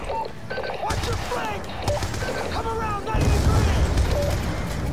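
Enemy gunfire in Call of Duty: Black Ops 2 comes as dense, loud bursts of shots and booms, layered with game effects and a voice talking over the battle.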